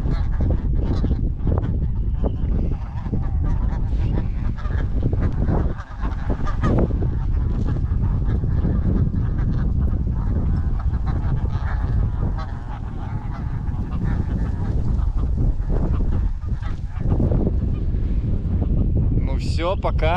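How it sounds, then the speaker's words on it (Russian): A flock of snow geese honks continuously and loudly at close range as the birds are released after banding on Wrangel Island in the Arctic, with wind noise and occasional voices underneath. "Сейчас выпускаем последних гусей."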